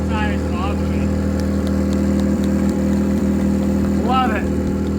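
A car engine roars with a steady, loud low drone at a burnout event, an attempt to shred the tires, while voices talk over the noise and brief higher whines rise near the start and end.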